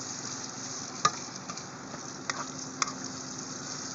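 Pork sisig stirred in a frying pan, a quiet continuous sizzle with a few sharp spatula taps and scrapes against the pan.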